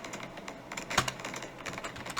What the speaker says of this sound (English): And let's type in the Norman